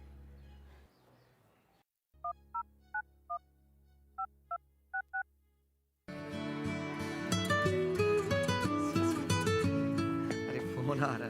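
A phone rings in a drama scene with a series of short electronic beeping tones in quick clusters, followed by a loud, full musical ringtone melody that plays on continuously.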